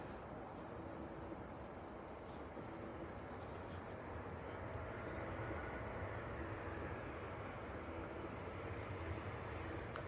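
An EasyJet airliner from Reykjavik lands at Manchester Airport and brakes hard, a steady, loud broadband roar that holds evenly throughout without letting up.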